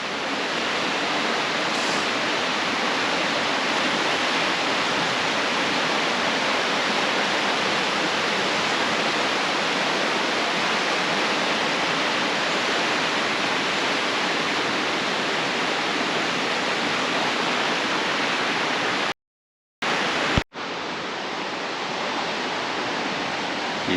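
A river rushes through a gorge below a high vantage point, a dense, steady roar of churning water heard from above, unbroken and fairly loud, with a brief dropout near the end.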